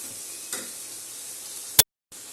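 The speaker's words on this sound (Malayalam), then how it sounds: "എണ്ണ ഒഴിച്ചു, കടുക് ഇട്ടു" Mustard seeds crackling in hot oil in a kadai, a steady soft frying hiss with one sharp loud pop near the end followed by a brief cut to silence.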